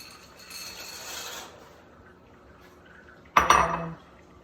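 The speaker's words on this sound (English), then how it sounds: "I'm going to go ahead and add my noodles." A soft hiss fades out, then a sharp clatter and rustle as dry pasta noodles pour into a pot of boiling water, lasting under a second before quiet returns.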